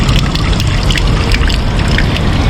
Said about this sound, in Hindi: ये पानी यहाँ पे 24 घंटे पानी आ रहा है, देखें आप, ठंडा पानी है,